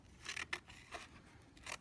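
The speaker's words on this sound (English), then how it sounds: "We're taking those scissors. I told you about that. And we are going to cut along our mouth that we made." Scissors snip through paper while cutting out the mouth of a paper pumpkin, a few quick close crisp cuts in an uneven rhythm with quiet pauses between, no talking.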